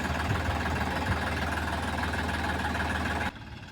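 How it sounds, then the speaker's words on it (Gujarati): A tractor engine runs steadily in a field with a low, rumbling drone and knocking vibration, close by, then drops off abruptly near the end. "અત્યારે એકવાર ખેતરમાં ટૂંકમાં ખાલી ટ્રેક્ટર જવા દે છે"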